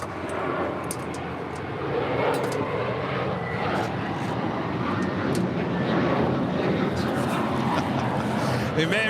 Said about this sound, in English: The 777 also making her way down to the 25s.